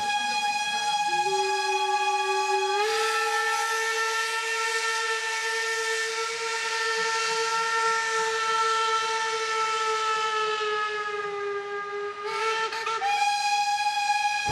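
A steam locomotive's whistle at Wolsztyn blows one long, loud, steady chord for about ten seconds, breaks off briefly, then sounds again in a shorter blast.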